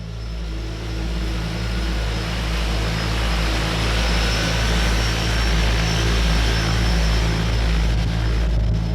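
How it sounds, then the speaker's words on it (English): A float plane takes off from water beside a remote beach in the Mackenzie Mountains wilderness of Canada, its propeller engine droning loud and steady throughout with a pulsing, throbbing rhythm and no talk. "My float plane just took off and left me completely all alone on this beach"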